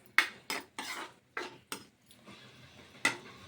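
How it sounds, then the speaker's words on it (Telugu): Chopped onions are stirred in a pan as they fry toward golden brown. A metal spoon scrapes and clinks against the pan in about seven distinct strokes over a faint sizzle, quiet and close, with no talk. "గోల్డెన్ బ్రౌన్ కలర్ వచ్చే వరకు వేయించుకోవాలి ఫ్రెండ్స్."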